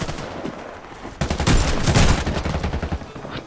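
MAG-7 shotgun fire in a shooting video game: a quiet stretch gives way to a loud, dense burst of blasts and reports that carries on in rapid succession for a couple of seconds, close and harsh.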